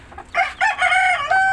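A White Hats cross White Knight rooster crows close by in a short burst of clucking, sustained calls.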